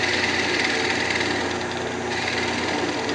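A skew chisel cuts a small redwood Christmas ornament spinning on a wood lathe, giving a continuous steady hiss and hum, close and unbroken for a few seconds with no speech.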